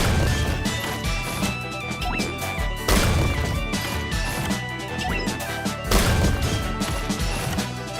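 Roblox Tower Defense Simulator battle with a duck-skinned, metal-helmeted crossbow unit attacking at max level, a dense stream of crashes, whacks and explosions over game music.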